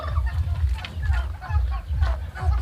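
A pet turkey gives repeated clucking, gobbling calls while being held and moved into or out of its pen, close and loud against a low rumbling background.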